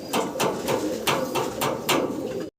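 A female American saint pigeon, red in colour, coos in a row of soft repeated low calls at a steady rhythm, close and fairly quiet, with faint rustling between calls.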